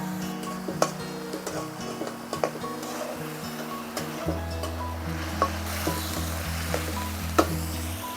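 A masala paste of garlic, green chili and ginger frying in a pan, with a soft steady sizzle, occasional clicks of stirring and a low hum underneath.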